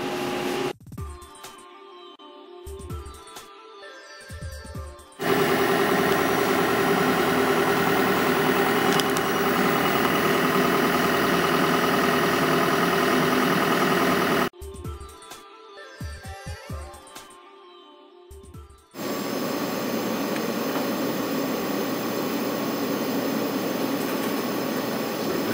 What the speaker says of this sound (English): right now the pumps are pumping down the chamber